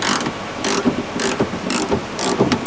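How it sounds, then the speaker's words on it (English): A wrench ratchets on a car liftgate latch bolt during a door lock repair, giving repeated short clicking bursts in a steady back-and-forth rhythm, close and loud with no voices. "We're going to take the latch out."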